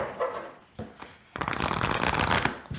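Playing cards shuffled by hand, a quieter riffle with brief pauses giving way to a dense, continuous flutter of flicking cards close by, with faint dog whimpers in the background.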